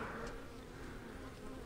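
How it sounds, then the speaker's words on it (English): Honey bees swarm around a hive in a dense, close, continuous buzz that holds steady throughout. "Just look at all those bees."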